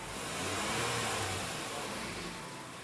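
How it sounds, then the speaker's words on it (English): A car engine converted to run on CNG revs up toward 2000 RPM as it switches from gasoline to natural gas, giving a steady, moderately loud hum with a slight swell early on. "I'll rev the engine to 2000 RPM and it'll switch over to running on natural gas."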